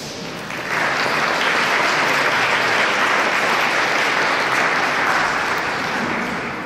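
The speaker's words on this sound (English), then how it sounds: "If you give them a round of applause" A crowd claps steadily for several seconds at a Vaisakhi celebration at the Alberta Legislature in Edmonton, a dense even patter that swells quickly and fades slightly toward the end.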